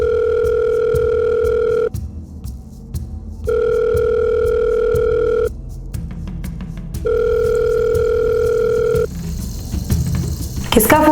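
A telephone rings in a home in three long, steady electronic bursts with short gaps between them. Faint room noise and a low background murmur continue underneath.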